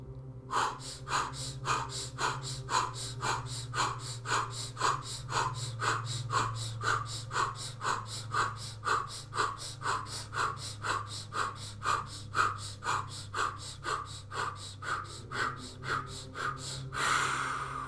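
Breathwork technique: fast, rhythmic, forceful breaths repeat steadily in a close, evenly paced series over about eighteen seconds, ending with a final held exhale.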